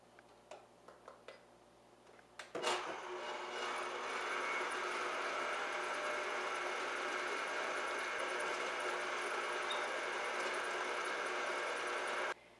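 A few faint ticks and clicks come first, then an electric mixer starts up and whirs in a steady, even hum, beating eggs into a gluten-free pumpkin pie filling.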